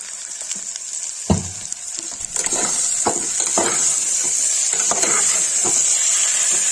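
Potatoes and onions fry in a pan, a loud continuous sizzle that swells after a clattering stir, with spatula scrapes and clinks punctuating the steady hiss up close.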